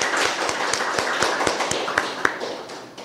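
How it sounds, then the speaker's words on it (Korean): A church congregation claps in encouragement during a Sunday service, a dense run of many hands spread across the room with a few sharper individual claps standing out, steady and moderately loud before easing off. "우리 집사님 잘 적응하실 수 있도록 한번 격려의 박수를 한번 하시죠"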